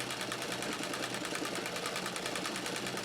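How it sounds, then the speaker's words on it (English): A White rotary treadle sewing machine running a basic straight stitch, giving a steady, fast whirring rattle that continues without a break at close range. "for what it is, a basic straight stitch machine, these Whites are great"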